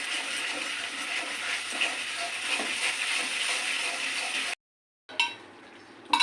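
Spice paste with poppy seed and cashew paste frying in a pan over lowered heat while being stirred, a steady close sizzle with scraping and rattling, cutting out briefly near the end before resuming.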